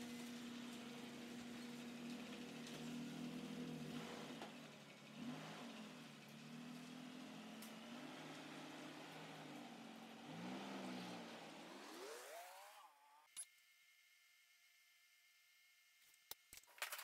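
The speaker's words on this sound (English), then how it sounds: "I'll just drive my truck out and let it down to the ground." A pickup truck's engine runs steadily and revs as it drives off a vehicle lift in a workshop, the motor rising in pitch near the end before cutting to near silence with a few faint clicks.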